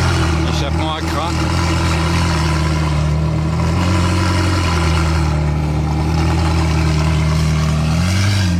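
Jaguar XJ220 engine with Accra exhaust runs steadily at close range, a deep continuous drone with a brief rev near the start and another rise at the end, with speech-like sounds over it.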